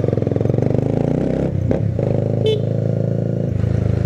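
A Honda CBR250R motorcycle engine runs loudly up close, revving with a rough, throbbing rhythm and some brief clatter in the middle.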